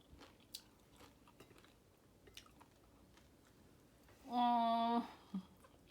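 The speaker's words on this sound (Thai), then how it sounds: "แข็งกรอบเหมือนหินกรอบไปสามโลก" Faint, close crunching bites of hard, crisp stir-fried bamboo shoots being chewed, scattered soft crackles followed by a short voiced hum near the end.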